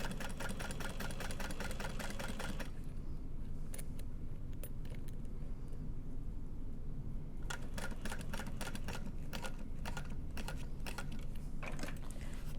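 A sewing machine stitches a zipper at a long stitch length, a steady rapid mechanical chatter, close and continuous, with a lighter clicking patch partway through and no talking.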